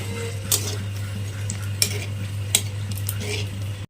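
Two dried red chillies dropped into hot oil in a home kitchen pan, giving a steady low sizzle under a constant hum, with a few sharp clinks of a spoon against the pan.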